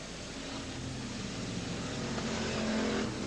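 1980s stock cars race flat out on an oval circuit at Laval, engines roaring at full throttle in a dense, continuous drone heard from a distance with no talk.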